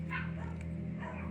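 Neighbours' dogs bark excitedly at a distance, a couple of short yaps rising over a steady low hum in the room.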